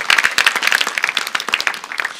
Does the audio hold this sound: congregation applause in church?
yes